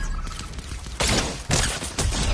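Gunfire in a PC video game: dense bursts of shots arrive in several loud volleys, with rapid cracks in between.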